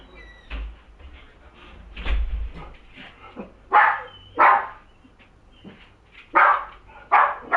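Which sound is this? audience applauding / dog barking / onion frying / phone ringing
dog barking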